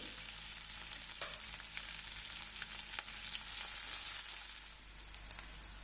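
Chopped onion and green chilli sizzle in hot oil in a home kitchen pan, a dense, steady close hiss with a few faint scrapes and no talking.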